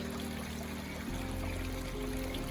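A garden pond waterfall runs in a steady, continuous trickle of splashing water, with a low hum beneath it and no voices.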